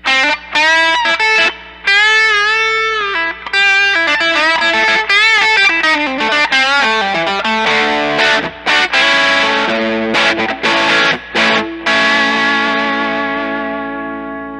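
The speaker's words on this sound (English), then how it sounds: "1981 distortion pedal." Electric guitar played through a neural-network model of the 1981 distortion pedal, loud and saturated with sustained bent notes, chords and quick riffs, with brief gaps and a fading ring at the end.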